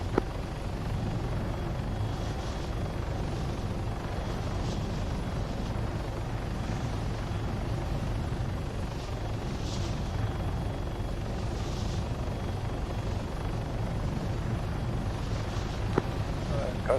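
Helicopters in the military video game Arma 3 produce a steady, dense rotor and engine roar that stays loud and constant throughout, with faint background game sounds.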